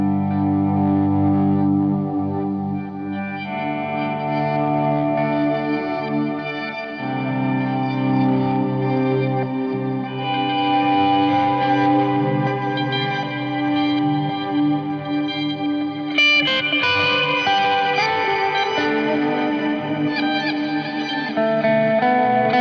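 Electric guitar played through a pedalboard of effects, with distortion, chorus, echo and reverb colouring sustained chords and melodic lines, loud, close and continuous with no talking.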